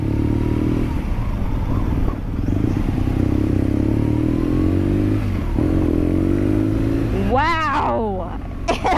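BMW R NineT motorcycle ridden in second gear, its engine droning steadily up close with rising pitch sweeps near the end, a voice talking over it.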